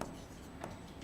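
A marker or chalk scrapes across a classroom board in a short, close, continuous writing stroke, with no talking.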